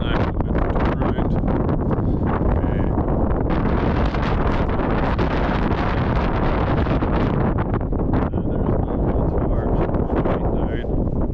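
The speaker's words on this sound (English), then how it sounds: "Hopefully you can hear me in this wind." Strong wind buffets the microphone on an open Scottish hilltop, a loud continuous roar with gusty surges throughout.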